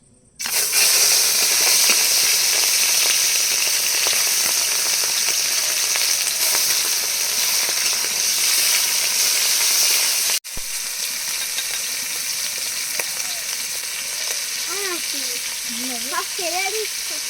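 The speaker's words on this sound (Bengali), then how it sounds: "ঝিঙের খোসা বাটার জন্য আগে চিংড়িটা ভেজে নেব।" Shrimp fry in a pan for a ridge gourd peel paste dish, a loud, close, continuous sizzle that drops abruptly in level partway through, with a faint voice heard briefly near the end.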